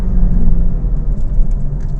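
In-cabin engine note of a 2019 Renault Megane Trophy 300, a turbocharged manual hatch, finishing a heel-and-toe downshift. It gives a steady, loud, close rumble with small fluctuations and no talking.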